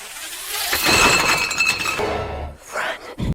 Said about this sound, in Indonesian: tanpa sengaja Evelyn menggeser botol kaca yang mengakibatkan suaranya bising